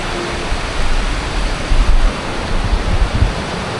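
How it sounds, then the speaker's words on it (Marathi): A waterfall crashes nearby during monsoon rains in the Konkan, a loud dense roar of falling water with gusty surges and no voices. "बाप रे, काय धबधबा यार"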